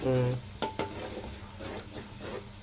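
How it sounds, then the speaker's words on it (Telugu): Onions with curry leaves frying in a pan, a soft continuous sizzle with a couple of sharp stirring clicks near the start and a brief voice at the opening. "అందులోనే కొంచెం కరివేపాకు వేసేసుకున్నాం ఉల్లిపాయలోనే ఓకే ఓకే పచ్చివాసన పోయేంత వరకు వేయించేసుకోవాలి"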